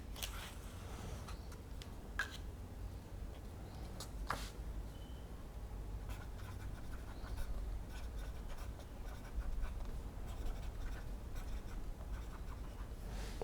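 A Lamy Safari fountain pen with a medium steel nib scratches softly across paper in continuous light strokes, quiet and close, against a steady low background hum, with no talking.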